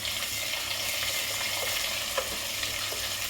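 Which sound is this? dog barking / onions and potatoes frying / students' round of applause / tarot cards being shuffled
onions and potatoes frying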